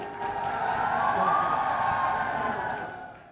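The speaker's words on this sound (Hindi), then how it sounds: "गुटे करताली एवं हुलाउली हो जाऊ" A crowd at a chief minister's public event in Padampur breaks into sustained clapping mixed with high, wavering ululation, a steady dense wash that swells and then fades toward the end.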